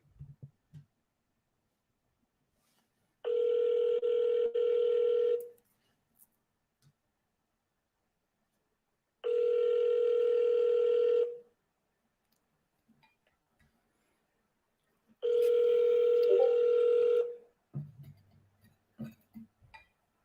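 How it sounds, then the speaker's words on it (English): Three long ringback tones on an outgoing phone call, each about two seconds with steady pitch, separated by silent gaps of several seconds, followed by a short low rustle at the end. "we're going to call Donald first"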